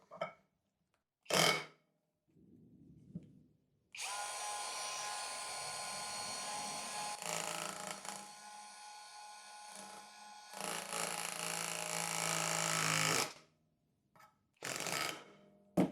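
A cordless Skil Autohammer PwrCore 12V drives a 3/4 inch pin nail into wood, with a loud, sustained buzzing rattle in long bursts and a few shorter sharp hits before and after.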